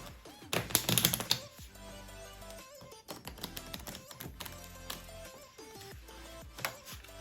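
Playing cards are shuffled by hand during a magic trick: a brisk flurry of close, rapid paper clicks, followed by softer taps over steady background music.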